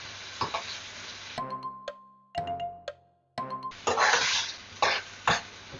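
Paneer being stirred into sauce on a tawa, with clattering spatula scrapes and sizzling that drop out briefly mid-clip while a tonal beep sounds, then resume loudly.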